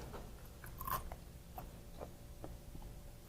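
Crisp crunching bites into a fried shrimp fritter, several sharp crackly chews spread out over a few seconds, close and fairly quiet.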